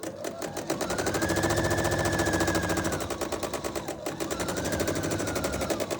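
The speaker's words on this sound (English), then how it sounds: "And then I'm going to go sew." Sewing machine stitching a quilt triangle unit with a quarter-inch seam, a rapid, steady mechanical chatter running close and loud with a short pause midway before resuming; no voices.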